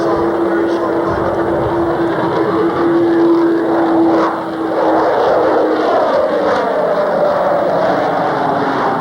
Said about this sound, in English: Full power on the J-75s and this on a very short climb.